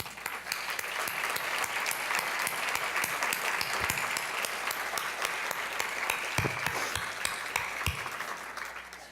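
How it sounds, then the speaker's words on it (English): Sustained applause from a luncheon audience honoring an award recipient, dense hand clapping in a large room, steady and fairly loud for several seconds. "so we can give you another round of deserved applause"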